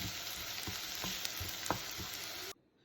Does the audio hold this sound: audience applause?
no